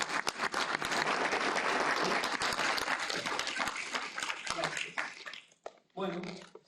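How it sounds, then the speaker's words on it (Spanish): A lecture audience breaks into dense applause that holds steady, then thins and stops near the end as a voice begins speaking. "El aplauso a la exposición."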